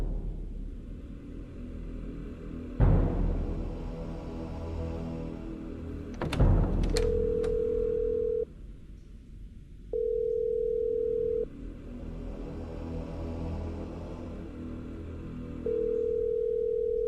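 A telephone rings in repeated long electronic tones with silent gaps between them, set against a low room rumble and a couple of sharp knocks or thuds.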